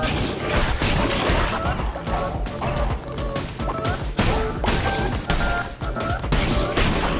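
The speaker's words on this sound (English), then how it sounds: "He is shooting balls everywhere." An enemy in Cult of the Lamb fires volleys of balls, producing rapid bursts of popping and thudding shots amid busy game music and effects, loud and dense, with occasional voice over the top.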